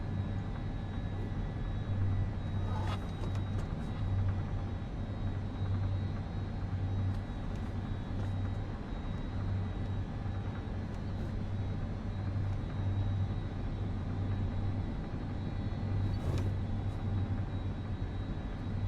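An iniBuilds L-1011 airliner departs Luton in a flight simulator, heard as a constant low jet engine rumble and roar. The drone holds steady throughout at a moderate level, with faint clicks near the start and end.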